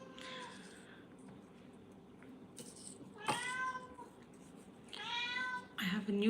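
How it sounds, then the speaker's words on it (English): A pet cat meows indoors in a few separate bursts, some drawn out and rising, some short and sharp, fairly close and clear over a quiet room with faint background murmur. "My cat's going crazy."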